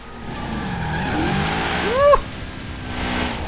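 A BMW X6 M drifting in Forza Horizon 4, its engine droning and revving in rising and falling sweeps. A sharp rev peak comes with a brief squeal before it settles back to a steady hum.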